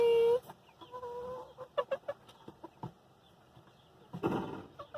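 Young chicks in a cage cluck and cheep in short, close bursts, scattered irregularly with quiet gaps, after a brief louder squawk at the start.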